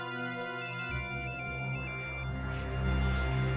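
A phone rings with an electronic ringtone made of repeating high beeping tones, playing over background music in an indoor TV drama scene.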